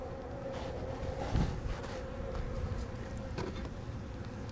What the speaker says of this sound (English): We actually have a lot of little yellow jacket hornets and other bee species working in here.